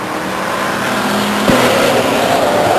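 Race cars lap the oval at Stockton 99 Speedway, a loud continuous engine roar that swells as cars pass close by, with a brief thump midway.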